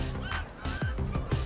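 Minecraft Story Mode chickens squawking and honking in short bursts, with a fowl-like call and a downward-sliding squawk over a busy game soundscape of low rumble and background effects.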